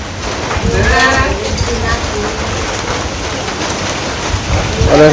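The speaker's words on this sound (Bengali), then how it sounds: "এই যে বৃষ্টি হয়ে গেছে মোটামুটি অন কি মন বর্ষা সিজন খালি বৃষ্টি আর বৃষ্টি" Steady light rain falls over a village, a continuous close hiss of drops with faint voices or other sounds surfacing briefly in the background.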